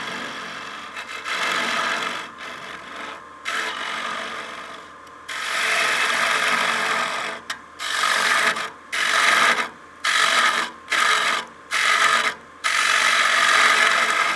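Wooden bowl being turned on a lathe with Easy Wood Tools carbide cutters, taking heavy roughing cuts toward the final depth at the base; repeated rasping scrapes in bursts broken by short pauses, close and fairly loud.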